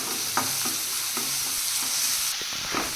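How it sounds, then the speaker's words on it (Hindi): A spoon stirs garlic and onion masala in a pan over a low flame, with soft repeated scraping strokes over a quiet steady sizzle. "ध्यान रखें कि ये जल न जाए, इसलिए इसको चम्मच से मिक्स करते रहें।"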